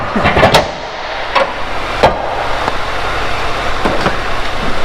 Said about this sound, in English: You can shut the car off if you want now.